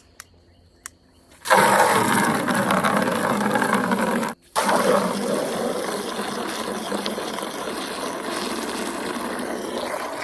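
Water runs steadily into a bucket being filled to hydrate bare-root strawberry plants: a dense, continuous splashing rush that starts abruptly after a quiet moment, breaks off briefly midway, then resumes close and loud.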